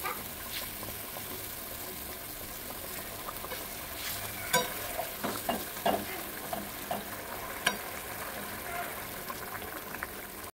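Katla fish frying in a pan, a steady broad sizzle throughout with occasional sharper spits and scrapes of stirring, close and fairly even in level, with no talk.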